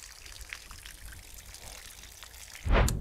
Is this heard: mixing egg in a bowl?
no